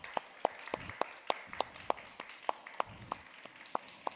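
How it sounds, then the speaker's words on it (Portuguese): Sparse applause from a small audience welcoming guests onto a stage, heard as a few scattered, distinct claps in an irregular rhythm, faint and somewhat distant. "Uma salva de palmas para eles, por favor."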